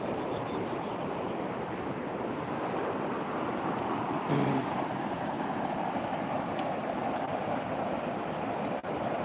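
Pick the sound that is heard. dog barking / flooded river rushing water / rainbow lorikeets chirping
flooded river rushing water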